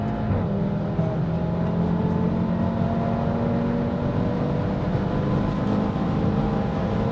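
A 400-horsepower Audi RS3 engine runs and accelerates, a loud continuous rumbling drone with rising tones, heard steadily from inside the moving car.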